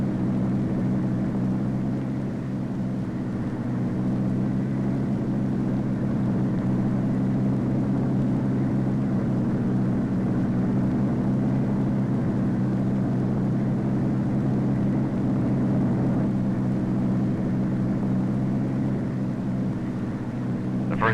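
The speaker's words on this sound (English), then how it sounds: "First takeoff is uneventful." A Convair model 7002 research airplane takes off, a steady, sustained engine drone with a low humming tone that holds evenly throughout, with no voices over it.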